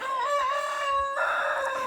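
A rooster crows close by in one long, drawn-out call, with chickens clucking faintly around it.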